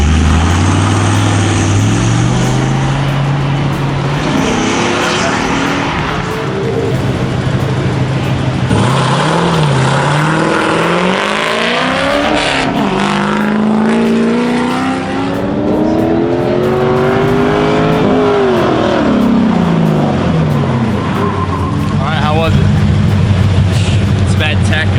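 A Dodge Viper race car powers around an autocross course, its engine climbing and falling through repeated revving sweeps, loud and close, with voices talking over parts of the run.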